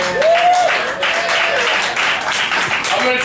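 Audience applause and clapping fill a live comedy night at a cafe, a steady dense wash of clapping with a brief whistle and vocal cheer near the start.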